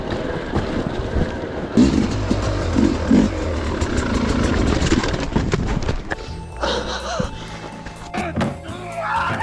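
A 2025 Sherco SE300 Factory two-stroke dirt bike ridden off-road, its engine buzzing and revving continuously with rattles and knocks from rough terrain, close and fairly loud.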